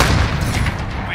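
A grenade explodes in the video game Call of Duty: Modern Warfare, a loud, close, booming blast that hits at once and rumbles as it fades.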